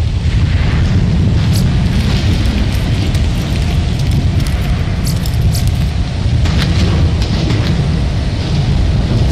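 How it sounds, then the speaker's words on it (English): An explosion in the video game Borderlands 2 gives a loud, sustained, rumbling roar of dense noise that fills the whole stretch with no pause, with faint crackling on top. "Standard explosion."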